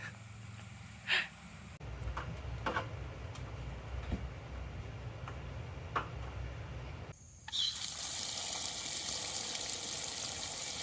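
Water from an outdoor spigot, a low, rumbling splash that starts after a few seconds and later turns into a brighter, steady hiss as the flow runs on.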